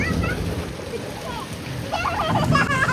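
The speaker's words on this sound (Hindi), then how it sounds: "इतना तेज़ी के साथ पानी आ रहा है।" Rainwater rushes fast down a flooded street, a continuous splashing flow heard up close while people, including children, talk over it.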